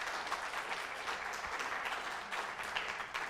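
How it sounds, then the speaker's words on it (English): Applause from a crowd at an outdoor gathering after thanks to people who cleared the grounds, a steady dense patter of clapping at moderate level with no talk. "please give them a round of applause"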